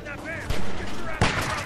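Gunfire from The Walking Dead video game aimed at a zombie: two sharp shots about a second apart over a busy game scene, with voices talking.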